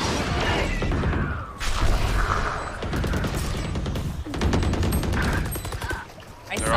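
Rapid gunfire bursts in a competitive video game shooter, loud and dense, with repeated volleys and short pauses, while a player's voice talks over parts of it.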